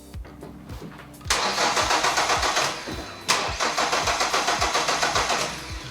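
A car engine cranks on its starter with a supercapacitor fitted to the battery: a steady rhythmic churning, then it catches and runs, and after a pause cranks again, loud and close, with no talk.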